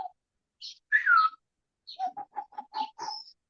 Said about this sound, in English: Is the ruru, the owl.